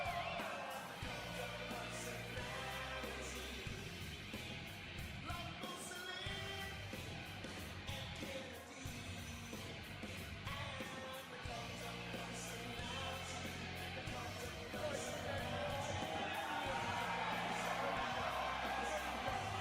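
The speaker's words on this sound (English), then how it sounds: "The crowd is fantastic loud right now." A WWE Raw arena crowd yells and cheers loudly in a continuous roar, with music-like rhythmic thumps and a commentator's voice talking over the noise throughout.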